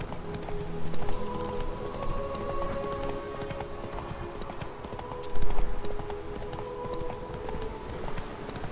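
Roach the horse in The Witcher 3, hooves clip-clopping in a quick galloping rhythm on the ground, close and clear, with a couple of heavier thumps standing out.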